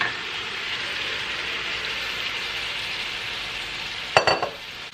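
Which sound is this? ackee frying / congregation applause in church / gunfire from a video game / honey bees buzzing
ackee frying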